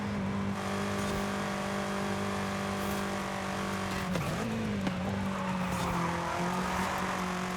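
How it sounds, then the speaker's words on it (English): BMW M8 race car in Forza Horizon, its engine holding a steady loud drone with a brief pitch dip and recovery midway, accompanied by tire squeal and skidding noise throughout. "This thing sounds so good. An M8 though."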